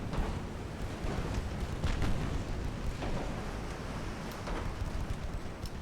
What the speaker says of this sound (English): And plinking away with the 3-inch guns